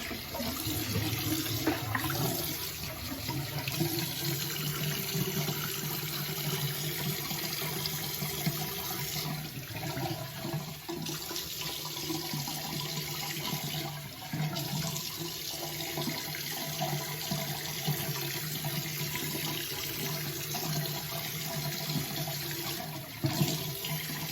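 Hot water runs steadily from a tap into a sink for a long stretch, a continuous close splashing rush with slight shifts in flow and no talking.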